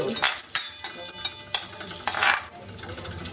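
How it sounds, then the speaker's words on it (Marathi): A spoon stirs vermicelli kheer with cashews and almonds in a pan, producing repeated close scraping strokes and soft clinks over a faint sizzle, about a stroke every half second. "हे बदाम आणि हे आता व्यवस्थित ते मिक्स करून घ्यायचे"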